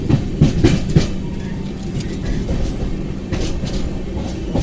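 Steady rumble and rhythmic clickety-clack of a moving passenger train in India, heard from inside a carriage, loud and constant with no voices.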